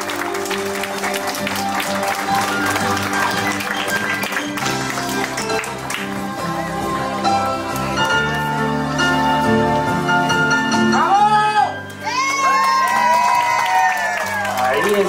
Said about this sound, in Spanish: Está el bonito aplauso de todos los seres queridos, familiares.